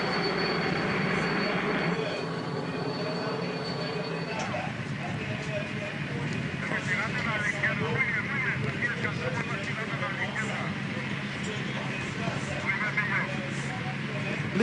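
A TV helicopter filming the 1991 Tour de France team time trial at Chassieu drones steadily under commentary, its engine and rotor hum carrying throughout beneath talking voices.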